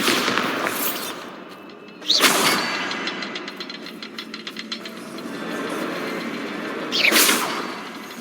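Bombarda blast spell exploding in Hogwarts Legacy, two sharp loud bursts a few seconds apart with a rattling crackle between them over an ambient game background.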